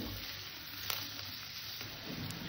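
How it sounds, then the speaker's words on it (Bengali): Carrots and potatoes frying in a pan, a dense steady sizzle with a spatula scraping and stirring through it, no voices. "এটাকে আমি সুন্দর করে ভেজে নেব। গাজর আর আলুটাকে"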